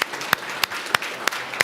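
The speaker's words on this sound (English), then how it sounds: "let's give them a round of applause." An audience at an open-data conference session applauds, with a few sharper, louder claps standing out at a steady rhythm above a thin, continuous patter of hands.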